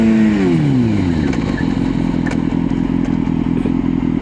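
A motorcycle engine runs loud and close, revs dropping as it shifts into second gear for a braking drill, then settles into a steady rough idle with light clatter.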